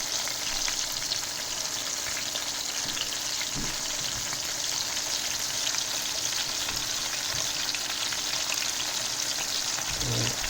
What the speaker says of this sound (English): It's bubbling way too much right now.